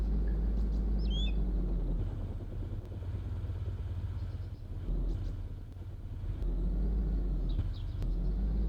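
SUV in the DayZ game driving steadily, a low continuous engine rumble that swells and dips, with faint chirps on top.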